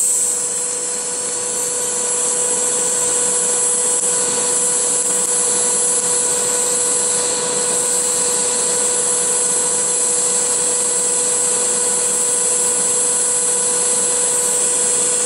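A TIG welder runs a bead with too little heat, giving a steady high electrical hum and buzzing tone, constant and close throughout with no speech.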